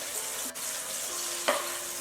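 Onion sizzling in a soup pot: a steady, close frying hiss runs throughout with a couple of brief stirring clatters, and no voices.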